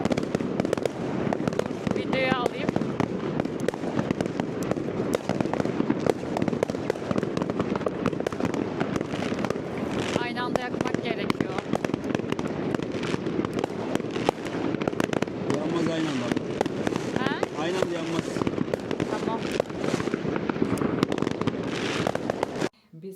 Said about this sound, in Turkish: Havai fişeklerimizi patlattık.